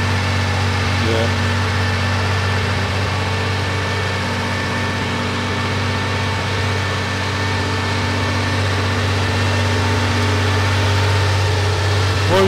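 A carburetted Porsche 911 Carrera 3.0 flat-six idles steadily throughout, a continuous near engine hum with a slight rumble and no clear revving.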